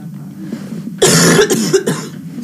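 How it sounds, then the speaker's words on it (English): A burst of two or three harsh, close coughs in quick succession, loud and isolated after a quiet moment. "Still got my cough going."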